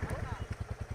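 A motorcycle idles on a road trip stop, a close, low, evenly spaced thumping pulse at a steady rhythm, with speech likely overlapping.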